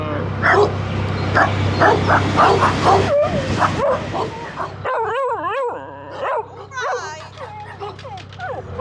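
Several short dog barks and yips with whiny, rising tones, fairly close, from a narrowboat over its steady low engine hum.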